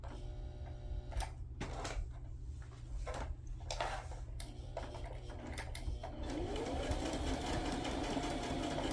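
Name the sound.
sewing machine running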